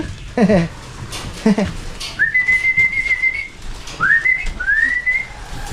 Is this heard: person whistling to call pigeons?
yes